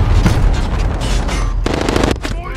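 Suppressed Mk18 Mod 0 rifle fired in Call of Duty: Modern Warfare, a dense, loud run of rapid shots with a sharper burst near the end, set against steady game noise.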